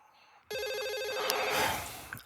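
Electronic telephone ringing in the video game S.T.A.L.K.E.R. 2, a sudden loud, trilling warble that starts abruptly and rings steadily for almost two seconds before cutting off, close and alone.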